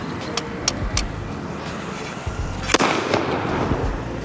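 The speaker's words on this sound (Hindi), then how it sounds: "अभी मैं फोड़ने वाला हूँ ये पोटास गन।" A potash toy cap gun fires several sharp pops, three quick ones early and a louder crack later, over a background rumble, during Diwali.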